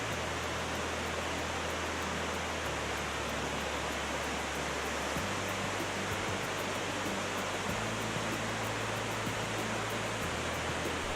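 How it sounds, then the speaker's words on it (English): Gibbon Falls in Yellowstone National Park pours over multiple levels and terraces, making a steady, dense roar of rushing water that holds at an even loudness throughout, with no voices. "This was quite possibly my favorite waterfall in the park, the way it cascaded over multiple levels and terraces."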